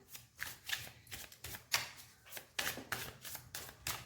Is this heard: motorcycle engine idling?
no